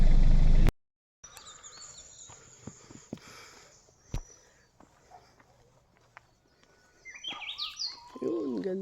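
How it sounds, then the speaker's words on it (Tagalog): Birds chirp and call among trees along a mountain garden trail, with scattered faint calls early and a livelier burst of song near the end, alongside light footsteps. "Yun, ganda ng tunog ng puno. Ng puno, ng ibon."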